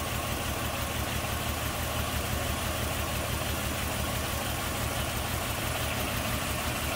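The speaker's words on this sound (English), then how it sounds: "Nice sounding flathead," A 1951 Lincoln Cosmopolitan's single-carb flathead engine idling, a steady, even low rumble that holds constant for the whole stretch, close by with no voices.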